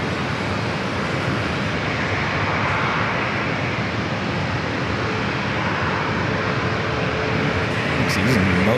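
A jet airliner on its takeoff roll down a long runway at San Diego airport, a steady loud broadband engine roar that holds throughout and swells slightly near the end.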